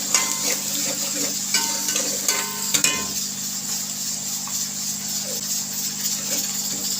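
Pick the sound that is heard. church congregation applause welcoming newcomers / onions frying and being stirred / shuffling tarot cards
onions frying and being stirred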